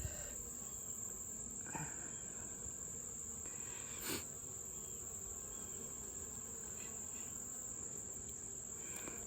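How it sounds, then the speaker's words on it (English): Honeybees hum steadily across an open hive frame during an inspection, a dense continuous drone with a high whine running throughout and a few brief louder passes near the microphone. "So any bee you see shaking on this frame right here, waggle dancing."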